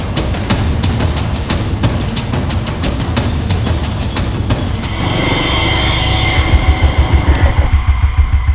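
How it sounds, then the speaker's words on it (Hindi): Car driven forward in a crime drama scene, a loud continuous engine drone with rhythmic pulsing, rising into a heavier revving rumble near the end, no talk. "तुम गाड़ी आगे ले जाओ।"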